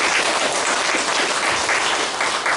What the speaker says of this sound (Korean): 우리 참부모님을 위해서 감사의 박수를 올려주시면 감사하겠습니다.